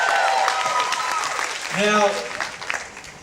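A theater crowd at a shipboard vocal competition applauds a singer, a broad wash of clapping that fades as a voice begins speaking over it.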